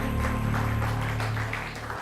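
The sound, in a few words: audience applause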